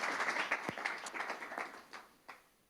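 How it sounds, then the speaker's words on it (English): A meetup audience applauds a keynote speaker at a sustainability working group event: scattered, moderate clapping from a modest crowd in a room that thins out toward the end. "a round of applause for you"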